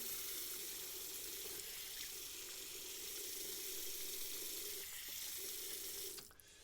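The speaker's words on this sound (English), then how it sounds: "We're gonna rinse off everything." A faucet pours steadily into a sink as a face is rinsed after shaving a goatee down to a mustache with a Rex Konsul safety razor, a soft continuous rush that cuts off abruptly at the end.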